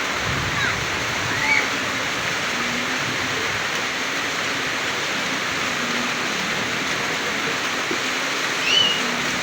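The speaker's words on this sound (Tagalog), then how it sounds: "Lumalakas na naman yung ulan." Heavy rain pours in a dense, steady hiss and roar that lasts throughout, with no letup in intensity.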